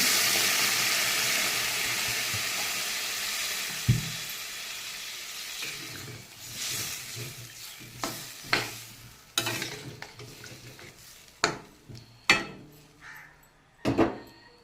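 Turmeric and coriander-cumin spice curry frying in a pan as water is added, a steady sizzle that fades, then repeated close stirring scrapes and clatters at irregular intervals.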